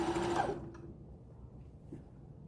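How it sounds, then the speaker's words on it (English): A sewing machine winds thread onto its bobbin, the motor whirring loudly for about half a second before cutting off and leaving a faint hum. "So on the actual bobbin you can see it's already started to wind some thread."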